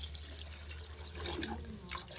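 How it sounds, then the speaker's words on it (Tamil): Water running into a pot of chicken bone soup with green chillies, a faint steady trickle with light splashing and drips near the end, no voices. "இதுக்கு தேவையான சூப்புக்கு தேவையான அளவுக்கு தண்ணி வச்சிடலாம்"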